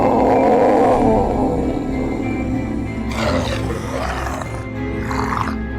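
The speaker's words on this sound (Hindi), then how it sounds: "ज़ॉम्बी जब गुल्ली बुल्ली को हथियार समेत अपनी तरफ आता हुआ देखता है तो ये अजीब अजीब सी आवाज़ें निकालना चालू कर देता है" A cartoon zombie lets out a long, rough, roaring growl, then a run of shorter raspy grunts and strange cries. The noises are loud and close and come without any speech.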